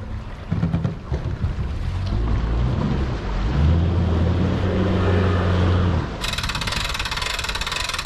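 Small Scout boat riding over choppy waves: a steady engine drone with wind and water rush, low thumping pulses as the hull slaps the waves, and a brighter hiss near the end; no talking.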